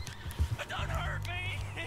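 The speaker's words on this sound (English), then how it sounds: "Either his horse is gonna give out or mine is." Horses gallop in Red Dead Redemption 2, with quick hoofbeats and a whinny in a busy game mix while a person talks over them.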